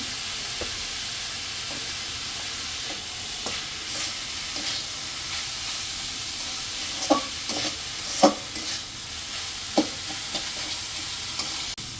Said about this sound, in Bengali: এই যে এখানে আমার মানে মাংসটা ভাজা ভাজা হয়ে গেল